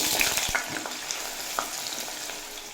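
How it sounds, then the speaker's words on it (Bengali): Pumpkin frying in hot mustard oil in a kadai: a constant close sizzle and crackle, with a few knocks and scrapes of a spatula, and no talking. "এ তেলে ভেজে নেব কুমড়ো"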